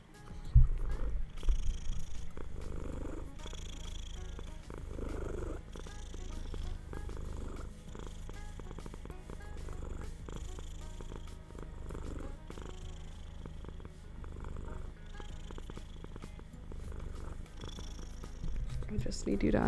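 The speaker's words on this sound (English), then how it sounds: "Can you hear her purring?" Domestic cat purring close up, a continuous low rumbling purr resting against a person's chest, with someone speaking softly over it.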